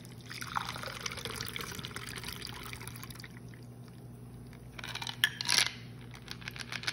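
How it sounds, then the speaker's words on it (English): A Little Italy cocktail, a Manhattan-style drink, is poured from a shaker into glasses at a lounge bar, giving a soft trickling splash near the end amid a quiet room. "always a perfect pour here at the Lagoon Side Lounge"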